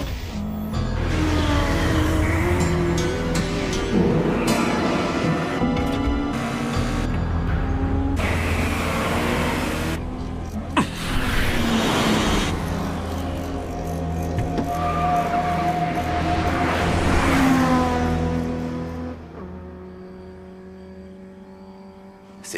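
A Toyota AE86 strains through an anime mountain race, its engine screaming loudly and steadily with rising whines and gear changes, joined by a second car, before the noise drops away near the end.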